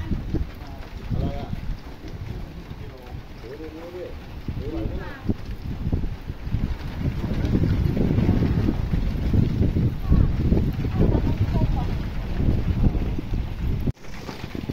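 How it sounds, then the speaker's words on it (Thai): Steady wind roars across the microphone with a broad rushing noise as rain begins before an evening storm, growing louder midway, while voices talk intermittently underneath. "ตอนนี้ลมมาแล้วนะมีลมเริ่มมาแล้วนะครับ แล้วก็มีฝนตกมาแล้วนะครับตอนนี้ครับ"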